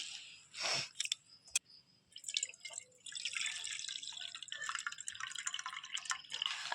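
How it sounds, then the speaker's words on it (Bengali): Flattened rice (chira) being washed by hand in a bowl of water, with soft drips and splashes at first, then a steady close churning slosh of water and grains. "বেশ ভালো করে কিন্তু চিড়েটা ধুয়ে নেব"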